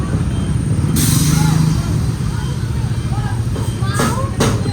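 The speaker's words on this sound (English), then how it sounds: "The big truck is leaving." A big truck pulls away at a north-south commuter railway worksite, its low engine rumble running throughout with short bursts of hiss. Someone talks over it most of the time.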